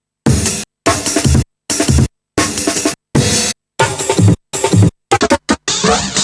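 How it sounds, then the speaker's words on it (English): Nine short chopped drum hits from Akai breaks play one after another with brief silent gaps between them, loud and punchy, each cut cleanly like a sampled break slice for oldschool jungle. "I ended up with 9 chops that sound like this."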